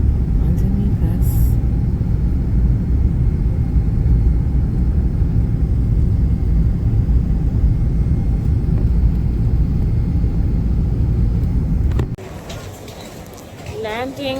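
Loud, steady roar of an airliner landing at Lagos, Nigeria, on a domestic flight, with a deep rumble that drops off sharply near the end as the engines quieten and faint cabin voices come through.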